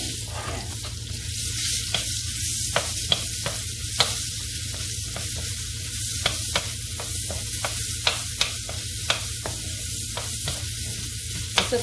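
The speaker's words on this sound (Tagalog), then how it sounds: "Saute lang natin itong sibuyas." Onion sautéing in a hot pan: a steady, close sizzle runs throughout, with sharp clicks of a utensil stirring against the pan at irregular intervals.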